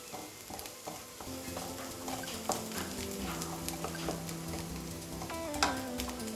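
Onions sautéing in a pan for paneer butter masala, a soft continuous sizzle with scattered stirring scrapes and clicks, quiet and close.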